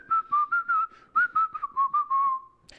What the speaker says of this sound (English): You just sort of whistle, and then you keep whistling